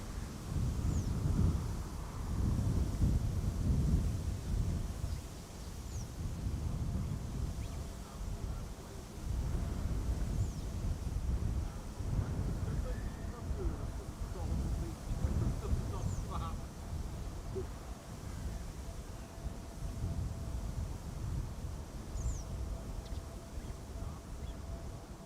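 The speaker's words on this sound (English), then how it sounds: "There's still crosswind blowing from the west." Gusty crosswind from the west buffets the microphone outdoors at Schiphol Airport, a continuous low roaring rush that swells and dips over the full stretch, with faint voices in the background.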